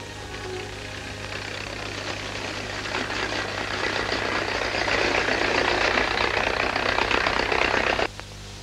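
Early Soviet-era tractor engine running continuously with a rough, rattling drone that grows louder and steadier before cutting off abruptly near the end.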